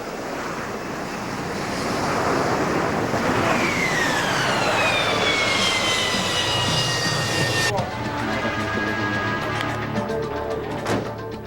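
A military airplane's engine roars loudly and steadily, with a rising whine sweeping upward partway through before the tone shifts abruptly, over a broad rushing wash.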